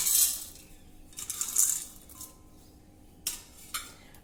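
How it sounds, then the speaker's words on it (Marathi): Roasted chana dal poured into a mixer jar already holding cashews, almonds and roasted peanuts: a few bright rattling bursts of hard grains striking the jar, with quiet gaps between, no speech. "फुटाण्याच्या डाळ्या देखील घालूया"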